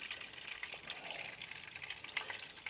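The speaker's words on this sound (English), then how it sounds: "When that pork is done, go ahead and remove it from the oil" Pork tonkatsu frying in hot oil gives a steady, bright crackle with small pops scattered throughout, close and even in level, with no voices.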